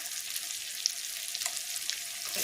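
Paneer bharta masala with onion, capsicum, coriander powder and cumin powder being sautéed in a pan, giving a quiet, steady sizzle with small scattered crackles and no voices.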